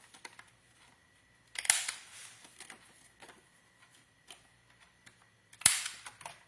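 A corner rounder punch rounds the corners of paper for a scrapbook album flap, giving two sharp, close snapping clunks about four seconds apart, with faint rustling handling noise in the quiet gap between them.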